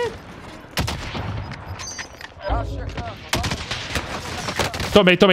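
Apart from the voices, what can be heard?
sniper rifle gunfire in the video game Call of Duty Warzone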